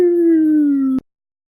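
A single voice imitates a distant siren during a tabletop role-playing session, holding one long wailing tone that slowly falls in pitch for about a second before cutting off abruptly into silence.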